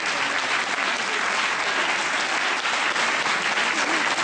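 Dense, sustained applause from an audience greets a tango dancing couple at a performance in Mantova, the clapping steady and loud throughout with no break.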